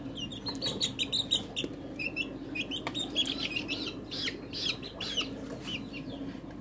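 Young desi chickens about 27 days old give soft, continuous clucking and chirping at close range, with occasional wing flaps and no talk over them.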